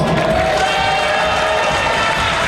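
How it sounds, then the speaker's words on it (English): Audience at a community event in Neepawa applauding and cheering, dense steady clapping with crowd noise throughout, loud and close. "please, round of applause."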